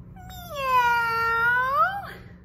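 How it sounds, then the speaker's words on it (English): A single drawn-out cat meow, clear and close, rising and then falling in pitch over about two seconds, with no other sound around it. "meow."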